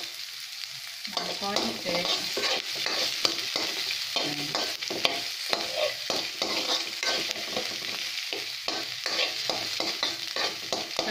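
Ground chicken sizzling and frying in a pan while being stirred with a utensil, steady close crackle with repeated scraping strokes, a few quiet spoken words.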